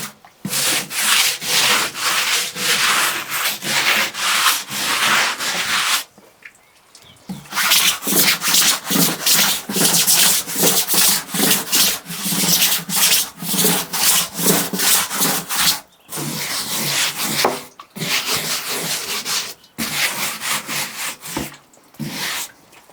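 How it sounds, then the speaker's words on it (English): A brush scrubs the cedar seats and sides of a Sulis hot tub in rapid, rhythmic back-and-forth strokes, close and continuous, broken by a few brief pauses. "with your brush just give it a light scrub."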